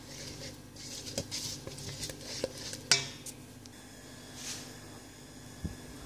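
Cookie batter with baking soda and salt being stirred in a bowl: soft scraping and patter with sporadic utensil clinks against the bowl, one sharper knock midway, fairly quiet and close.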